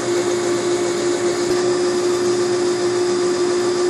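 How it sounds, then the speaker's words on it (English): A lathe spins a countersink bit against a drum lug, giving a steady, loud whining hum with a constant pitch that runs unbroken and alone, with no talk. "Now I'll put in the countersink bit, and I'll show you how I countersink it."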